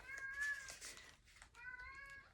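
A cat meows twice, drawn-out tonal cries separated by a short pause, quiet and close, with some faint rustling underneath and no talk.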